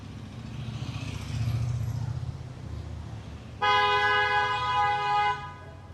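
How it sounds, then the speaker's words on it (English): In busy Yaletown traffic, a car horn blasts one long, loud honk of nearly two seconds over the steady rumble of passing vehicles. "They're starting to get grumpy. They're honking their horns."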